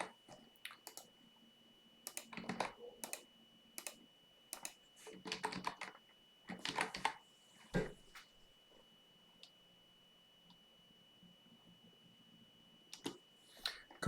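Typing code on a computer keyboard, quiet close clusters of quick key clicks in irregular bursts with pauses between them.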